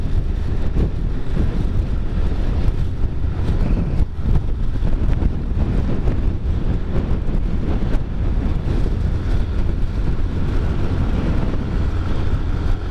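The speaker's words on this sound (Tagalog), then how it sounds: "malakas na naman yung hangin" Strong wind buffeting a microphone during a motorcycle ride through fog at Malico, San Nicolas, a steady heavy roar and rumble that never lets up, loud and close throughout.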